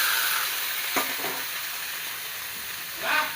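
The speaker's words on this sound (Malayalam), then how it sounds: "ഇതാ ഒരു ചീനച്ചട്ടി എടുപ്പത്ത് വെച്ചു നല്ല ശേഷം എണ്ണ വെച്ചിട്ട് ഇതൊന്ന് വഴറ്റി എടുക്കാം" Vegetables sauté in hot oil in a pan while sambar is being made, giving a steady, loud sizzle throughout with a couple of brief stirring scrapes.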